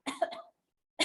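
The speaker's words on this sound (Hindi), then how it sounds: "खांसी आ गई, जल्दी बताओ।" A single close cough: a harsh burst with a throaty tail lasting about half a second, then silence, then the start of another sharp cough.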